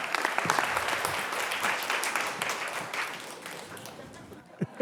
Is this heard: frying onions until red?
no